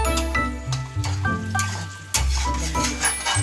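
Coriander being stirred into a sizzling prawn masala in a pan, with a spoon scraping and clinking through the thick mixture in short repeated strokes over a steady frying hiss.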